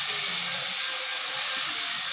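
Grated yellow pumpkin for halwa frying in a pan gives a steady, loud, even hiss that runs unbroken throughout, with no voices.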